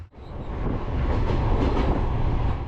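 Sleeper train travelling from Kazakhstan to Kyrgyzstan rolls along the tracks, a close, steady low rumble of wheels and carriage with faint clattering, heard from inside a compartment.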